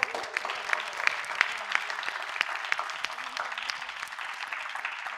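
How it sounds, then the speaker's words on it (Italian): A theatre audience at a casino venue claps for a participant, sustained moderately faint applause with a few sharper individual claps and a voice faintly audible beneath. "Un grande applauso a Giorgio."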